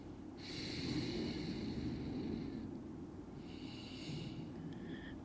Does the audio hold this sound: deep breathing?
yes